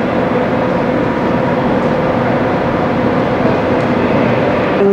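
Amtrak train 153 in the Boston area, a steady loud broadband rumble and hiss of rolling rail cars that holds constant throughout with no voices.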